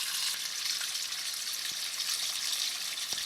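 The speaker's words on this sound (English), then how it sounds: "pulling the drain plug out of the bilge" Water draining out of a sailboat's bilge through a pulled drain plug during winterizing, a steady close broadband rush with a few faint drips, continuous and unbroken by talk.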